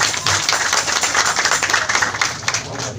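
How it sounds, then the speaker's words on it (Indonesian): Audience applause at a randai (Minangkabau folk theatre) coaching event in Solok, a dense, steady patter of many hands clapping throughout, fairly close and continuous with no pause. "Tepuk tangan untuk panitia."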